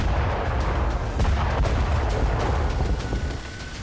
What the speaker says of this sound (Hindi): तेहरान में पूरी रात धमाके होते रहे।